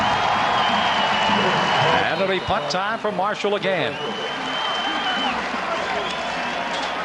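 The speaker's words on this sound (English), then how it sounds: "now the fans for Appalachian State applaud the defense as they come off" Appalachian State fans applaud their defense at a 1996 college football game against Marshall, a broad crowd clapping that swells under a play-by-play announcer's voice and then eases into steady stadium noise.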